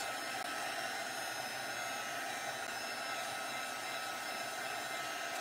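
A dryer runs steadily throughout, drying a fresh coat of glitter glaze; a continuous, even whooshing blow at constant loudness with no talk over it.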